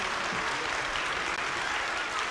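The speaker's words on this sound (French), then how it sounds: "On peut l'applaudir effectivement." Dense, steady applause from an audience at a talk about hospital clowns and healing through laughter, a uniform wash of many hands clapping throughout the short stretch.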